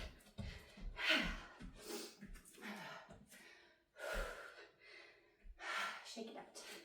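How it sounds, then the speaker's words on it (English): Heavy breathing during a shoulder-strengthening workout, a series of forceful exhales and gasping breaths recurring every second or so, close and fairly quiet, with no spoken words. "Breathe it out."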